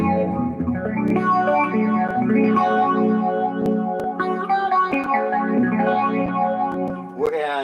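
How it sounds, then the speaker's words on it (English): Electric guitar chords played through a Zoom phase shifter pedal, with a wide, sweeping swirl over sustained, slightly distorted notes, loud and continuous with brief pauses between strums. "I'm going to show you what I do like about the phase shifter in this"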